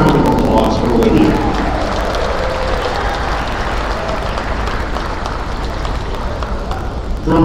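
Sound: applause for volleyball player Olivia

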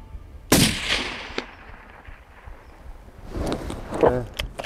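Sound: rifle gunshot while hunting

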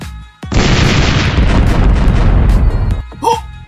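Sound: explosion blasting open the city gate

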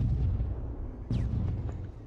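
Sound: explosions in the video game Tales from the Borderlands

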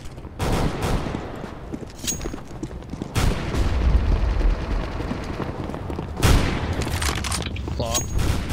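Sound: decoy grenade imitating gunfire in Counter-Strike video game

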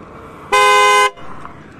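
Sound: loud trumpet horn on Suzuki Access 125 scooter

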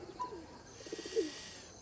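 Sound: feral pigeon cooing in video game Alba: A Wildlife Adventure

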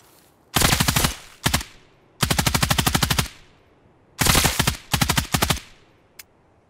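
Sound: gunfire in the battle royale video game Islands of Nyne

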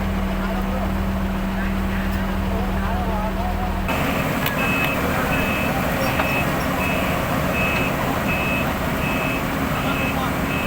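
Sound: truck moving with reversing beeps

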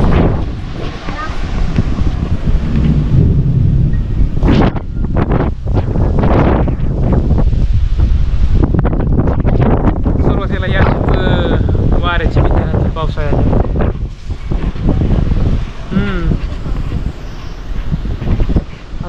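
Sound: strong storm wind blowing

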